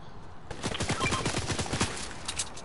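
A rapid-fire assault rifle in Fortnite unloads a fast, evenly spaced stream of shots lasting about a second and a half, moderately loud, followed by a few scattered pops, with no talking.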